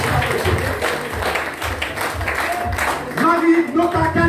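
A crowd at a Miss America Haiti pageant final applauds the second runner-up with moderate clapping and cheering, while a host's amplified voice talks over it and music rises near the end.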